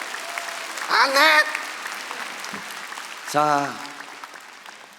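A church congregation at an autumn special dawn revival service applauding, a sustained wash of clapping under a preacher's voice, which rises and continues as the applause carries on.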